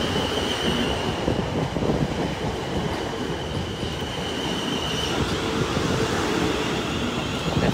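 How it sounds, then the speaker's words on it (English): Suburban train 450074 arriving at Clapham Junction on the South Western Main Line, a loud continuous rumble of wheels on rails with a thin high squeal running through most of the passage, close by and unaccompanied by talk. "another train coming in, a suburb train coming in as well from behind me"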